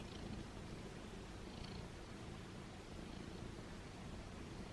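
A cat purring softly and steadily up close, a low continuous rumbling purr with no other sounds.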